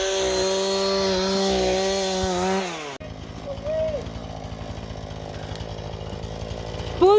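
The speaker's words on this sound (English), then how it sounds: "I have to hold the chainsaw in one hand" A chainsaw drones loudly and steadily while cutting fallen trees off grid, then drops after a few seconds to a lower idling rumble that continues in the background with faint scraping.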